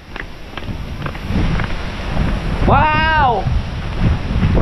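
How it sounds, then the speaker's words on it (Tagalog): Strong gusting wind buffets the microphone outdoors, a loud, continuous roar that builds and surges, while a voice briefly exclaims in surprise. "Ang lakas pa naman ng hangin."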